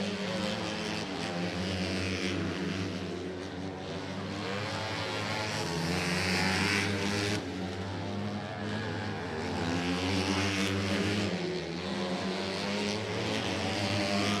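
Race cars lap the oval at Exit 7 Motorsports Park during a weekly race, a loud, steady engine drone with layered tones that swell and shift as the field passes down the back straightaway, continuous and close with no talk.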